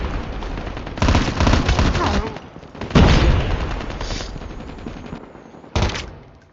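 Sentry gun in a first-person shooter video game firing in rapid bursts, loud stuttering gunfire in several separate volleys with short gaps between them.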